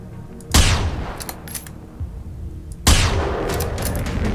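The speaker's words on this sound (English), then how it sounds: "Maybe I'm just shooting over or something." Two sharp, loud gunshot bursts in the video game Generation Zero, each ringing out with a long decaying tail, separated by a couple of seconds of quieter ambience.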